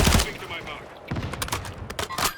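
Bursts of automatic gunfire from the game Warzone, a loud opening volley followed by rapid crackling shots and scattered pops, with faint voices in the background.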